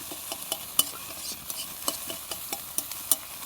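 Egg frying in a pan gives a soft, steady sizzle, broken by a series of sharp, irregular taps and scrapes from a utensil against the pan, close and fairly quiet, with no talking.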